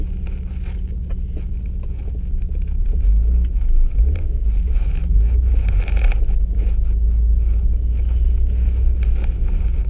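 1991 BMW 525i E34 driving at sunset, heard from inside as a steady low engine and road rumble with wind noise, constant and loud throughout, no talk.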